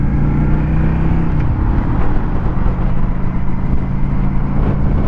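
A Honda Shadow Phantom motorcycle cruises on the interstate, its engine a steady loud drone under heavy rushing wind noise that holds constant throughout, with a slight dip in pitch early on.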